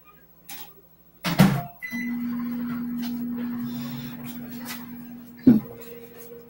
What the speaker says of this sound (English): we're gonna put the butter mixture in the microwave for just a couple of seconds